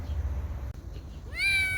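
A homeless kitten, weak from cold and hunger, gives one clear, close meow near the end after a short low rumble.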